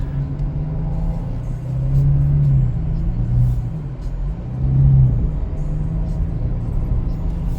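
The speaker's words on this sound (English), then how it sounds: "cabin noise is pretty loud." Steady low road rumble and engine drone fill a Ford Mustang soft-top convertible cabin, swelling twice as the car accelerates, loud and constant throughout.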